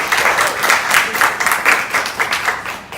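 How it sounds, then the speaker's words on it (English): Continuous applause from an audience at an evening forum on abortion and sex education, dense and steady clapping throughout at close range with no talk over it. "Give yourself a round of applause,"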